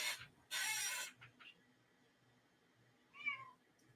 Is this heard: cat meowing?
yes